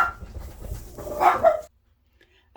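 Dogs barking in a burst of loud, close, overlapping barks and yips indoors, stopping abruptly into near silence before one more bark.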